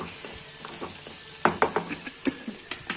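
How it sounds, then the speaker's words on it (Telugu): Small onions frying in a pan, with a steady sizzling hiss underneath and a series of sharper pops and crackles spaced through the second half, close and fairly loud. "అలాగే చిన్నుల్లిపాయలు కూడా వేసేసుకొని కొంచెం మూత పెట్టి ఫ్రై అయ్యాక అది మగ్గిపోయింది"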